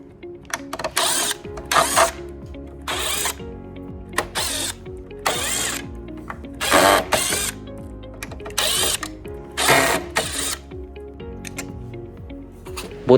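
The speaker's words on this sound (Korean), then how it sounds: "송풍팬은 13mm 복사알이나 몽키를 활용하여 분해를 해줍니다" A ratcheting socket wrench with a 13 mm socket whirs in repeated short bursts with pauses between them, loud and close, as the blower fan bolts of a Winia standing air conditioner are worked loose.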